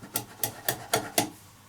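Five sharp metallic clinks at a steady even pace, a metal rod tapping a drill bit threaded shank-first through a bored hole in oak for a turned lamp, close and clear with quiet between strikes.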